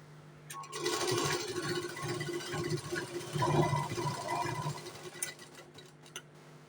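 A sewing machine stitches the sides of a four-tuck blouse in a close, steady whirring run of about four seconds, slowing briefly midway, then stops. No voices are heard.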